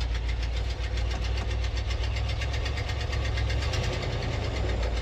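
An old truck engine chugs along steadily in first gear, a loud, close, continuous low rumble with a knocking pulse and no talking over it.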